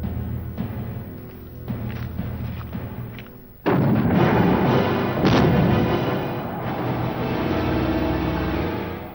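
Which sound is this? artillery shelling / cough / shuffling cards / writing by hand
artillery shelling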